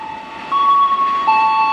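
A freight train hauling steel coil containers passes a station, giving off loud, steady, sustained horn-like tones that shift pitch partway through.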